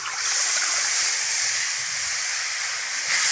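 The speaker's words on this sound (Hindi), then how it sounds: "पानी डाल देंगे" Water poured into kadhi in a hot pan makes a loud, continuous steamy hiss and rushing sizzle that holds steady for several seconds, with no one talking.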